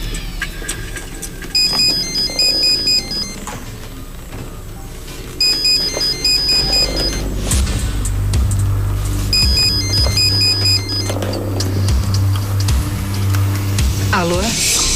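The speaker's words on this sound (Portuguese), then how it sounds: "No meio da madrugada, o sequestrador telefona." A telephone rings in repeated bursts in the middle of the night as a kidnapper calls the waiting family, the rings clear and fairly loud over low background rumble and dramatic music.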